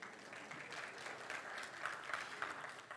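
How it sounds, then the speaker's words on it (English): Steady applause from a crowd, a continuous patter of many hands clapping, heard at a moderate distance without pause. "they're applauding for you"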